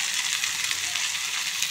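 Chopped spinach goes into a pan of fried onions, a steady close hiss of sizzling without pauses and no talk.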